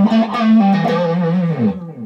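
Electric guitar played through a Zexcoil single-coil neck pickup on a Rhinehart S-style guitar, a sustained, ringing chordal passage with smooth, full tone and effects, loud and close, alone without talk.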